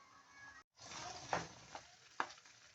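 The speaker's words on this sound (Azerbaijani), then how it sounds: "Bir kaşık yağ töküp soğanı kızardırıq." Onion frying in oil in a pan, a steady close sizzle with a brief cut near the start and a few sharp clinks of stirring.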